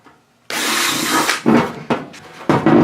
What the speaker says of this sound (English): actually I wound up with a number 15 drill bit here